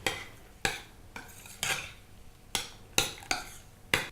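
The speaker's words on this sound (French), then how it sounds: "On mélange." A utensil stirs diced mango with a glass of water and sweetener in a saucepan, making about eight scraping, clinking strokes at a steady rhythm, close and clear with no voices.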